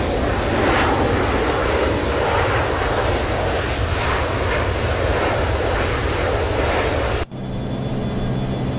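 A simulated Boeing 737-200 Advanced (FlyJSim, X-Plane 10 flight simulator) climbs rapidly on autopilot. Its jet engines give a loud, steady, broadband roar that continues without a break, then drops sharply to a quieter cabin hum near the end.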